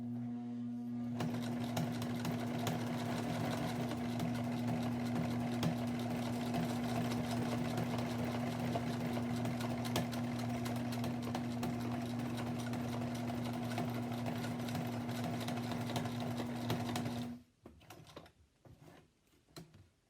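A sewing machine stitches an appliqué border on a quilt, a steady close motor hum with rapid needle chatter running continuously for about seventeen seconds before stopping abruptly, followed by faint handling noises.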